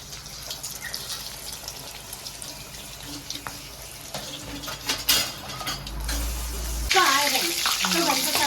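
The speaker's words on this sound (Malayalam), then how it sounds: "ഇത് മുക്കിയിട്ടാണ് പൊരിക്കുന്നത്" Breadcrumb-coated egg rolls fry in hot oil with a soft, ongoing sizzle. Pans and utensils clink at close range, and a louder burst of bubbling crackle swells near the end.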